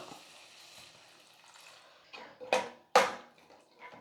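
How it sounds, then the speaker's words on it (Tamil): Lentil cooking water pours into a pot of drumstick sambar in a home kitchen, a faint trickle followed by two short, splashy bursts of liquid close by. "பருப்பில் இருக்கிற தண்ணி கொஞ்சம் சேர்த்துக்கலாம்"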